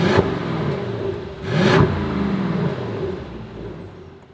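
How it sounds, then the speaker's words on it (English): A Mercedes-AMG S63 in Comfort mode idles smoothly, then gives one brief, restrained rev that swells and settles back to a low, refined hum, heard close with no voices. "Even the revs, it sounds more like an S500."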